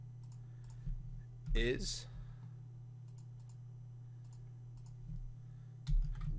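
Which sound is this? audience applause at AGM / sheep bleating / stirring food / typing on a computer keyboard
typing on a computer keyboard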